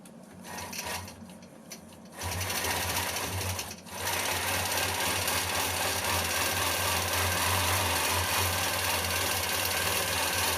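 A sewing machine stitches a quilt with a steady, continuous mechanical whir, running close and loud for most of the stretch after a brief start-stop at the beginning.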